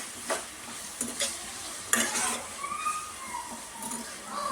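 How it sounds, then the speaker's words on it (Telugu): Spices with turmeric frying in oil in a pan for pav bhaji, heard as a close, low sizzle with several scraping strokes of stirring and a few quick clatters. "ఆయిల్లో మంచిగా ఫ్రై కానివ్వాలి వీటిని."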